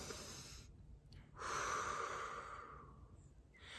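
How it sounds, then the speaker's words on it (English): Slow, deep breaths, a long inhale and a longer exhale, close and soft, with no talking. "do some simple breathing. 5 good inhales and exhales."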